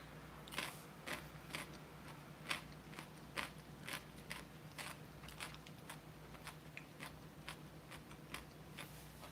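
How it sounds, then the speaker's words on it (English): Close, crisp crunching from chewing a pickle: a steady run of sharp bites and wet crunches repeating about every half second, alone over a low constant hum. "I don't know how much of this pickle chewing you can hear"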